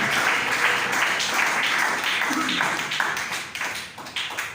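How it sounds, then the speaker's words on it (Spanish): A church congregation claps together in a dense, sustained round of applause, loud and close, with a few individual claps standing out as it thins. "Denle ese aplauso al Señor."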